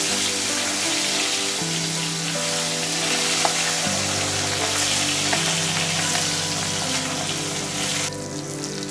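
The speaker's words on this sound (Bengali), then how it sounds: "মাছটাকে একটু লাল লাল করে ভেজে নিব।" Katla fish fries in hot oil with a loud, continuous close sizzle and crackle, steady for the whole stretch and easing slightly near the end, with a faint tonal hum beneath and no voices.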